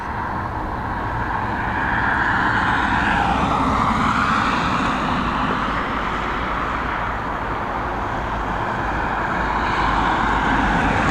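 A United airliner taxiing at Dublin Airport, heard as a steady, broad jet engine roar at moderate distance, continuous throughout with slight swells and no talking.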